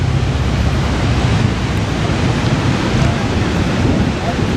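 Niagara Falls roars from the Canadian side as a steady, loud, broadband wash of falling water with no breaks, spray and wind mixed into the continuous rush.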